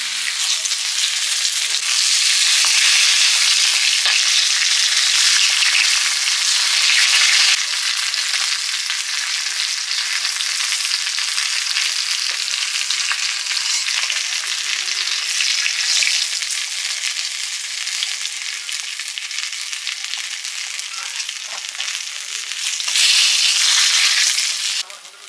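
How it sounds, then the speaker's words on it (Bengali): Rohu fish frying in hot oil gives a loud, continuous hiss and sizzle that holds steady for about twenty-five seconds, swelling slightly near the end, with no talking. "মাছ ভাজা হয়ে গেছে প্রায়।"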